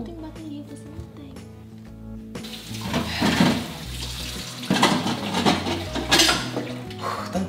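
Dishes and cutlery clatter while washing up in a home kitchen, with clinks of plates and silverware and running water from the sink, continuous and close.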